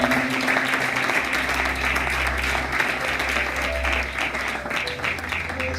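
A church congregation claps and cheers in praise during a worship service, with sustained, dense applause that holds steady from start to finish.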